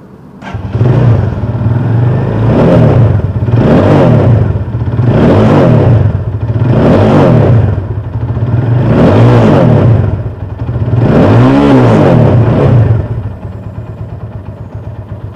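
A Rusi Sigma 250 motorcycle with a 223cc engine idles and is revved hard six times in a steady rhythm, each loud swell rising and falling back to a close, rumbling idle, with no talk.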